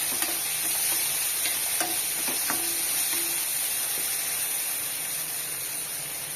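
Coriander thuvaiyal mixture with tamarind being stirred in a hot pan, a steady background sizzle with soft scraping strokes and occasional light clinks, close and alone without speech.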